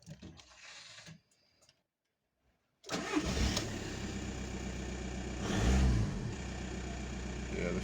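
A VW Golf MK4 very low on fuel, just after a fuel pump replacement: a brief cranking, a moment of silence, then the engine catches and settles into a steady idle with one rev swell, loud and close.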